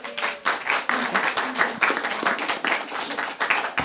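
A church congregation gives a round of applause, uneven clapping from a modest crowd with distinct individual claps swelling and fading, fairly close and without speech.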